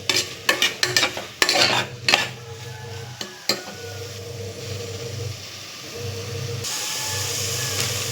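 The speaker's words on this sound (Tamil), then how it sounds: "ரைஸ் உப்பு போட்டு கொஞ்சம் வதக்கிட்டு" Salted rice sautéed in a pan for biryani: a steady sizzle with scraping stir strokes and sharp spoon-on-pan clatters early on, settling into a continuous close frying hiss.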